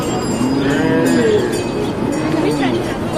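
Cattle at a Dinka cattle camp moo repeatedly in overlapping low calls, close and loud, over a steady background murmur of camp noise.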